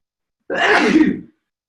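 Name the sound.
sneeze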